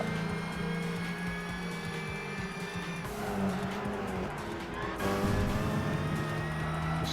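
Toyota Supra engine in the racing game Gran Turismo 5, a steady loud drone with rising and falling revs and shifting pitch throughout, no voices.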